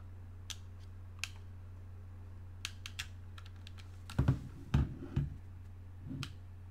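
Someone types on a computer keyboard used for GeForce Now cloud gaming on an NVIDIA Shield TV, scattered single clicks at first and then a short quick burst of louder, close keystrokes in a quiet room.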